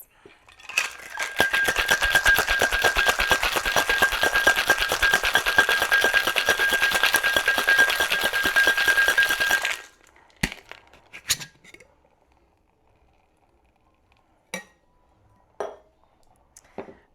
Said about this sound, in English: We're going to shake for about 10 to 15 seconds until it's ice cold in your hands.